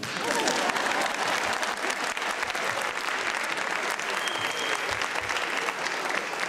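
Audience applause at a spiritual talk by Dr Vimal Chaitanya, dense steady clapping from a crowd filling the hall, loud and continuous throughout with faint murmurs underneath.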